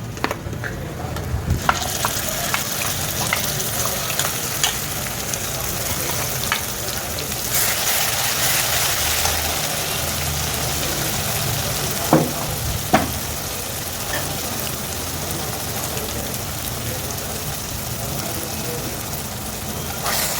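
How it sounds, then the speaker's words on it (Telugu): Garlic chili powder and fenugreek leaves fry on a low flame for Andhra-style menthi kura, making a steady close sizzle with scraping stirs and a few spoon knocks against the pan. "సిమ్లో పెట్టుకొని సన్న మంట మీద ఫ్రై చేసుకోవాలి"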